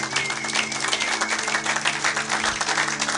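Church congregation applauding together, a dense steady wash of many hands clapping that fills the room at an even level throughout.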